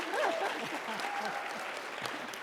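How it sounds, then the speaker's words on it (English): Brief audience applause at a conference session, clapping fading over a couple of seconds with voices talking over it. "So you can all clap again."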